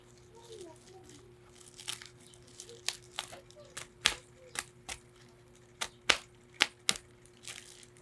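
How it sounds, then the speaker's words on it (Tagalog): Paper tears and crinkles while a package holding a Bible is unboxed, with sharp irregular rips and crackles growing louder and more frequent over a quiet room hum. "Ito mag-unboxing ako."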